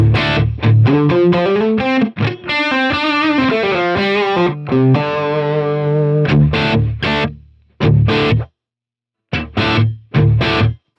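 An electric guitar through a Line 6 Helix/HX Stomp dynamic room reverb (8-meter room) plays a driven, distorted riff with a short room-like reverb tail, ending in choppy stabs separated by gaps.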